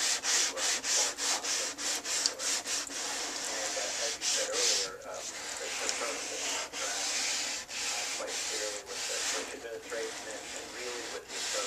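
A hand sanding block rubs back and forth along a tape line on painted bodywork, a close, quiet, rhythmic scratching in short strokes that repeat steadily throughout.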